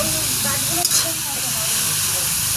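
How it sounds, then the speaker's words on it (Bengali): Mixed vegetables frying in a pan ahead of making rice, cooked outdoors at a family picnic, give a steady close hiss and sizzle with scraping stirs throughout, a few clattery bumps near the start. "এই যে রাইস করবো, তার জন্য সবজিগুলো ভেজে নিচ্ছি।"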